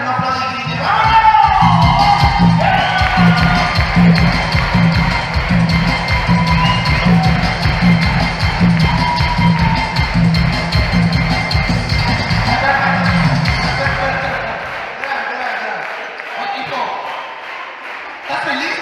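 Party crowd at a quinceañera celebration in a banquet hall shouting and clapping together under loud, pounding sound-system music, sustained and dense, then thinning toward the end.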